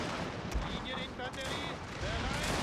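Gunfire crackles and pops through a steady wash of battle noise in a Prussian war video game, with soldiers firing down into the streets, mixed with faint whistling tones and sharper bursts scattered across the clip.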